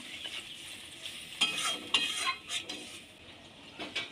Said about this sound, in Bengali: এবার আমি জল দিয়ে দেব দিয়ে হালকা নেড়ে নেব